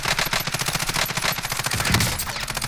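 Rapid automatic fire from a RAM7 assault rifle in the video game Warzone, loud sustained bursts of close gunshots in a fast, even rhythm with no break for the whole stretch.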